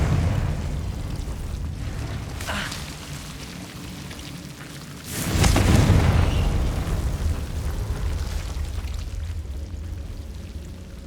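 Confringo fire spell explosion in the video game Hogwarts Legacy on PS5, a sudden loud booming burst with a crackling rumbling tail over game ambience, preceded by a fainter whoosh.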